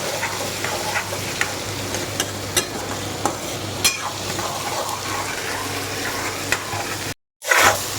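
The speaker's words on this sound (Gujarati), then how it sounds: "થોડીક વાર પહેલાં ટમેટાના ડુંગળીને મિક્સ થવા દઈએ" Tomatoes and onions frying in a pan while being stirred, a dense continuous sizzle with periodic scraping knocks of the spoon, close up, ending in a sudden brief silence before the hiss returns.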